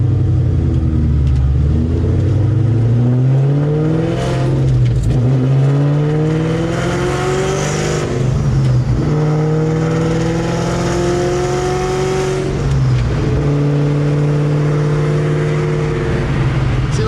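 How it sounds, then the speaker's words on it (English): A cammed Terminator Cobra engine revs hard while driving, rising and falling through several loud, choppy throttle pulls with a lumpy rumbling idle between them, heard close from inside the car. "I got the head strap on and I'm driving a cam Terminator Cobra"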